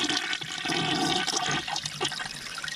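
A clogged, backed-up household toilet flushing with a loud, churning rush of water that gurgles and swirls steadily, close up and without talk.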